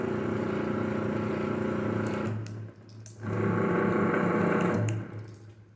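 Automatic gate motor fitted with an oversized capacitor, running with a steady, strained hum and buzz that dips briefly and then resumes, with no talking.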